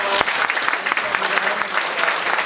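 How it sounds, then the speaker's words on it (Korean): Church congregation clapping to welcome newly registered members during a service, a continuous bright patter of many hands, fairly loud and even throughout. "우리 박수로 환영하겠습니다"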